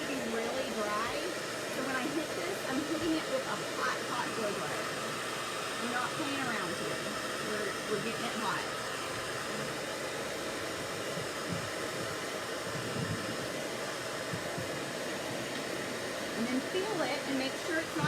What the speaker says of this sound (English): I'm hitting it with a hot blow dryer